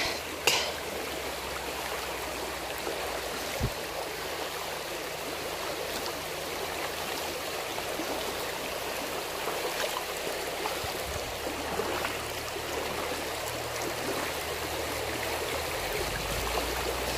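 Fast-flowing river water rushing steadily and close, a dense continuous wash of gurgling and splashing in a shallow stretch during mudlarking, with no talking.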